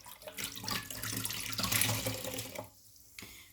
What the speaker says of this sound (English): So you take like a cloth with water